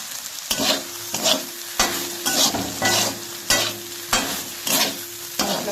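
Okra frying with spices in a pan over low gas, a steady sizzle broken by regular rhythmic scrapes of a spoon stirring, about eight strokes, close and alone without talk.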